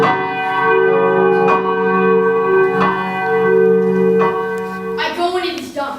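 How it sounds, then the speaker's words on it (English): A church bell rings in steady, resonant strokes with long humming overtones during a staged Macbeth performance, and a voice speaks over the last moments. "The bell invites me."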